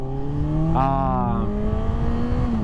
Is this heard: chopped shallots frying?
no